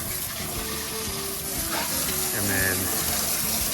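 A hose sprays water across the hull of a 1977 Tarva jet boat, a loud, continuous close gush with a voice briefly speaking.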